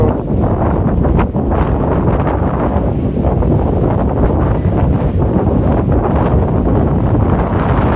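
Strong wind on the Benidorm seafront buffets the microphone in a loud, steady roar that gusts and rumbles without a break, with no voices over it.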